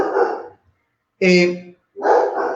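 A dog barks three times in separate loud, close bursts with short silent gaps between them, heard during a church sermon.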